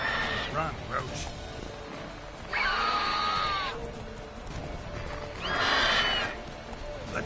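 Roach, a horse in the video game The Witcher 3, neighs loudly twice with long, shrill whinnies over a steady background of galloping hooves and game ambience.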